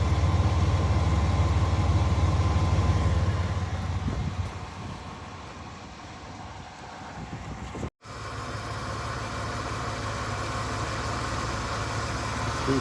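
Old Lincoln with a 3.8 engine running at idle, a steady low mechanical hum heard close and continuous with a slight dip midway, with no talk.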